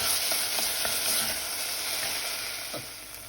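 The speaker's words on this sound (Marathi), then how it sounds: "मातशें भाजून हो टोमाटा सगळें आमी मातशें भाजून हाडया" Chopped tomatoes roasting in a pan for a Goan black chana curry give a loud, dense, continuous sizzle, with faint stirring taps close by.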